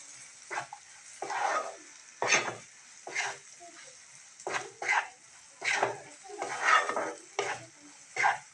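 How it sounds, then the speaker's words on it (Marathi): Spiced peas being stirred with red chili masala in a hot pan, a spoon scraping in repeated short bursts over a soft sizzle of frying oil, close and fairly quiet. "हा मसाला पण आपण एकत्र करू."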